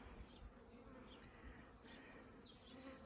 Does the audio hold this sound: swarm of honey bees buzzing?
yes